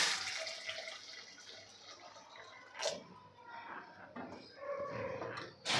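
Hot water pours and splashes into a pan of egg curry made with black masala, a close trickling stream with a few sharper splashes and pauses.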